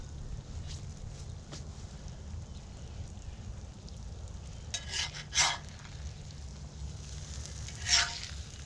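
Eggs fry in a Dutch oven with a low, steady sizzle, joined by a few brief scrapes and clinks of a utensil against the pot.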